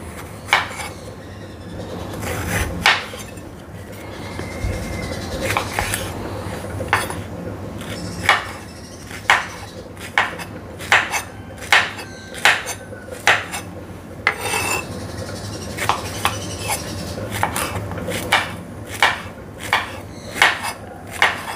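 A knife chops ridge gourd into pieces on a board, making a steady series of crisp, evenly spaced knocks close by over a faint background.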